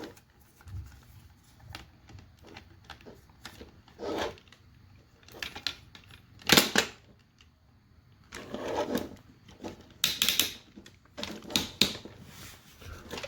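Plastic ratchet joints on a Galaxy Detectives Big Beast figure click in short bursts of rapid ticks, close and fairly quiet, separated by brief pauses as the limbs are moved.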